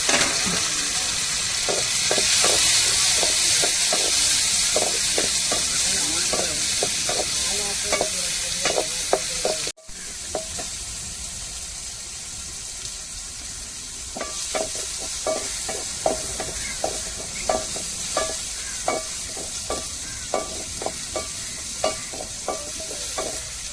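Tomatoes sizzle and fry in hot oil while a utensil stirs and scrapes the pan in repeated strokes, close up, with a brief break midway.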